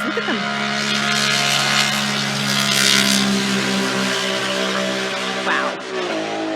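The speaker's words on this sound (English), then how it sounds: "But these motorbikes, look at them." Motorbikes ride past on a mountain road with a sustained roaring engine drone that swells as they pass and fades away, with a brief voice over the noise.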